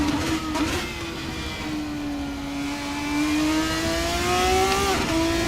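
Formula 3 race cars in Assetto Corsa, a single open-wheel engine whining at high revs and climbing steadily through the gears, loud and close, with a shift near the end.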